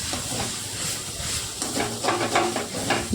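Beetroot frying in a pan on a home stove gives a steady, close sizzling hiss that runs throughout without a break. No one speaks.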